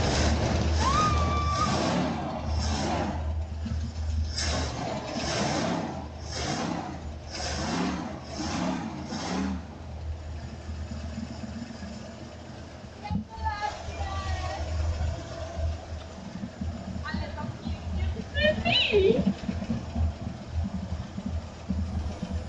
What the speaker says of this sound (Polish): usłyszałem, że silnik ma zamiar ruszyć